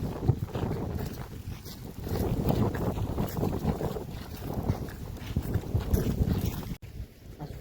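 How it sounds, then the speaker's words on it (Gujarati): Steady wind blows outdoors on a warm summer day near neem trees, a broad rushing roar with gusty surges and microphone buffeting that runs continuously throughout, with no talking. "પવન એ બહુ ઉડે છે મસ્ત મજામાં"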